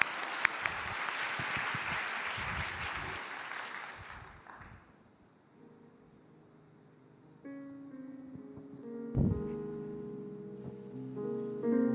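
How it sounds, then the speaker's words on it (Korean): A church congregation at a youth service breaks into sustained applause that fades out after several seconds, giving way to soft keyboard notes as a worship song begins. "우리 박수로 청해 듣도록 하겠습니다."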